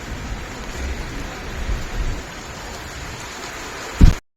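Steady rain falling outdoors during April in Rayagada, a continuous broadband hiss with a brief louder burst near the end, no talking.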